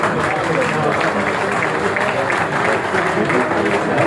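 An audience at a workshop applauds a visiting union minister with dense, continuous clapping that fills the hall, steady and loud throughout, with voices mixed in.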